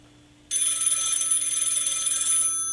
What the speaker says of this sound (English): the hospital phone is ringing.